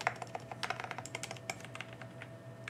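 Fingers type quickly on a Keychron K3 Pro low-profile mechanical keyboard, producing a close, rapid run of crisp clicking keystrokes with no talk.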